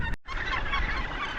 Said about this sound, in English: Gannets.